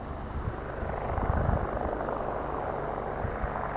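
A rescue helicopter flies near Mont Blanc, its rotor and engine producing a loud, steady droning whir that stays close and constant throughout.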